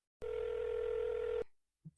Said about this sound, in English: makes a phone call